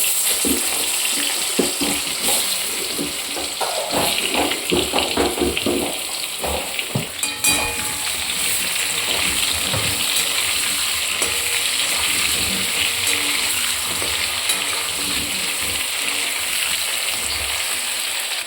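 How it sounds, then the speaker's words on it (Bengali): Potato and eggplant pieces fry in hot oil with dried chili, ginger and cumin, a steady close sizzle with bursts of stirring and clatter early on, then settling into an even crackle. "এবার আলুগুলোর মধ্যে দিয়ে দেবো এটা ভাজবো"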